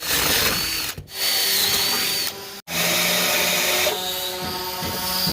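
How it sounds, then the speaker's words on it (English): A power drill whines loudly in several bursts with brief pauses between, grinding and chattering as it bites into an aluminum hatch lid. "The lid's placed in the track, centered up, and then marked in preparation to drill some holes."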